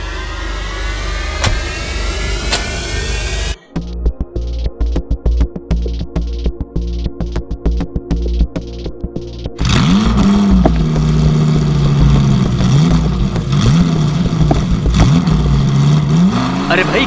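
A car engine cranks with choppy, stuttering bursts before catching and settling into a loud, steady revving idle with rising pitch sweeps, heard close and dominant.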